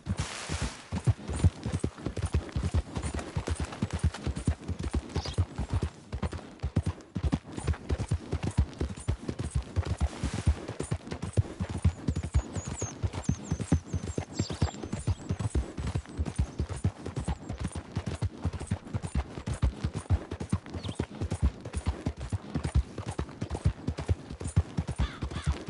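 Horse hooves galloping in a PS4 video game, a rapid continuous clip-clop of hoofbeats, close and fairly loud throughout, with occasional whinnies and no talk.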